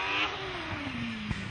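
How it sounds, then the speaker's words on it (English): A 4-litre Gould Judd V8 race car accelerates up a hillclimb course, its engine note rising steadily with a sharp transient near the end, heard at moderate distance with no talk. "their 4-litre Gould Judd V8"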